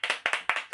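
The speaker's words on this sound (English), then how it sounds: "the clapping has to stop." Hands clapping in a quick, slightly uneven rhythm, five or six close, loud claps in under a second with no voices.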